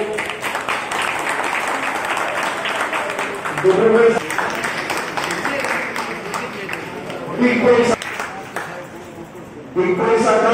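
An audience claps at a Marwari conference executive meeting in Nagaon, with applause rising in bursts over steady talking that keeps going throughout.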